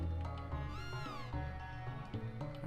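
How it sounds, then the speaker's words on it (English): A cat meowing in Chrono Trigger, one drawn-out rising-and-falling meow heard up close over soft game music, with no one talking. "And hey, there's a cat here too."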